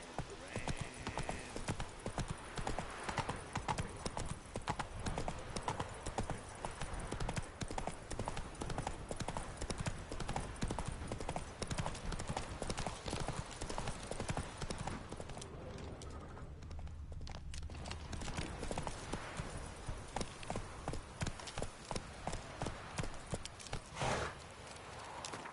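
Steady clip-clop of Geralt's horse Roach's hooves in The Witcher 3, a continuous rhythmic trot running the whole time, with a brief whinny and occasional speech over it.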